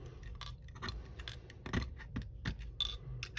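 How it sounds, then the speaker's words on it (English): A utility knife slices tangled hair from a Dyson vacuum wheel, making a close series of short, crisp snipping and scraping sounds at an irregular pace. "I'm going to use my utility knife, and I'm just going to cut that hair off like that"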